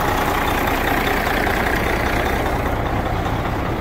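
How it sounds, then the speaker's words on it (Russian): A car engine idles steadily close by on its first start, a constant low rumble with no pauses or changes in pitch. "Вот так вот моторчик работает."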